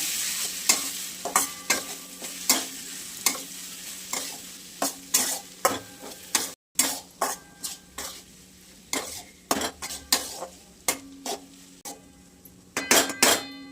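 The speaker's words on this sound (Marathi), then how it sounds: "एक 2 चमचे आपलं घरगुती काळा मसाला टाकणार आहे आपण याच्यात. आणि थोडं मीठ टाकणार आहे आपण याच्यात. परतून घेणार आहे आपण." Homemade black masala and salt being sautéed in a pan for a spinach dish, with repeated sharp scraping and clinking of a spoon against the pan over a soft sizzle, close and steady, with no talk.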